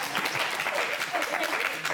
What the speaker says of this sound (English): Am I the only one clapping?